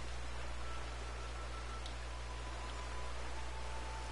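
Steady rain in the video game Red Dead Redemption Online hisses in a constant, even wash over a low background hum, with no talking.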